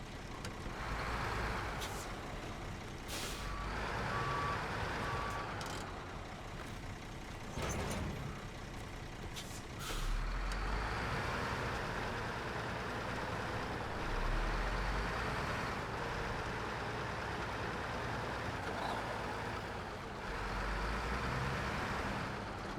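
A heavy truck in SnowRunner reverses to hook up a trailer, its engine rumbling steadily with sharp air-brake hisses and clunks breaking through; no talk.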